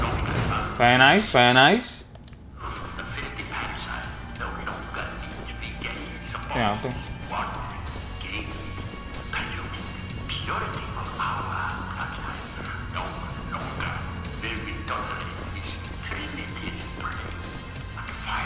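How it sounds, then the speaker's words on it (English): A dog barks in a Wolfenstein: The New Order game scene, a few sharp yelps near the start over steady ambient game noise, with someone briefly speaking. "I can hear a dog."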